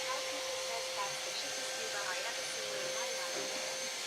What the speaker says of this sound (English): this Hoover can hoover up anything. It's an industrial one, but like a cheaper one.